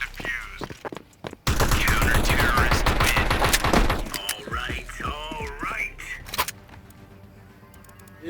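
Rapid automatic gunfire in the Counter-Strike 2 video game, a dense sustained burst of shots for a few seconds, then softer scattered game sounds and faint speech.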